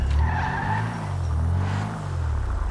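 Car in GTA 5 spinning its tires into blue tire smoke, a loud sustained screech over a deep engine drone, wavering in pitch for the whole stretch.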